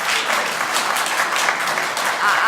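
Audience applause at an RTC board meeting, a steady, dense wash of clapping from many hands that holds evenly throughout without pause.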